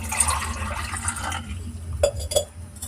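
Water poured from a cup into an empty tea pot, a splashing liquid stream followed by a couple of short metallic clinks, heard close.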